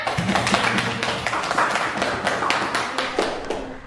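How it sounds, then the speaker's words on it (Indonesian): In a classroom, a small group claps hands in a loose, fairly fast rhythm, the individual claps sharp and distinct at close range, with a faint voice underneath. "Tepuk tangan."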